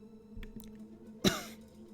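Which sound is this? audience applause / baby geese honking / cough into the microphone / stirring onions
cough into the microphone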